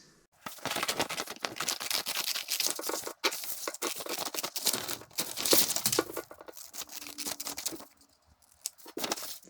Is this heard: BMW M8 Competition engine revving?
no